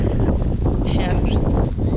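Steady, rushing wind in inclement weather at Milford Sound, New Zealand, buffets the microphone with a broad roar, constant and loud throughout.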